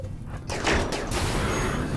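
Laser shots intercepted during a battle in the video game RimWorld, a run of sharp synthetic bursts and crackling impacts that swell into a dense sustained rush, loud and close, with no speech.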